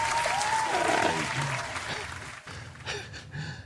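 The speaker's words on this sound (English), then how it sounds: "Round of applause to Mr." A burst of clapping from a small group, steady and fairly close, with a voice briefly heard over it.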